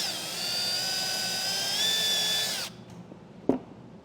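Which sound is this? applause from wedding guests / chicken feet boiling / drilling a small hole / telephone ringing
drilling a small hole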